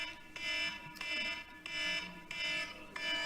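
An alarm bell rings in a public hearing room, repeated bursts of bright ringing about every two-thirds of a second, moderately close and steady, with no speech over it.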